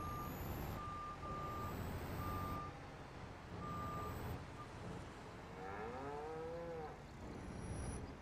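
A truck in a farming video game backing up, its steady intermittent reversing beeps repeating over a constant engine drone, with a cow mooing in the background near the end.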